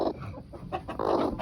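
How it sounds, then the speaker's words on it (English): A puffed-up broody hen with no eggs under her makes low, grumbling clucks and odd throaty noises in short bursts, quiet and close. "You're making all kinds of noise, aren't you? Yep. Broody chicken."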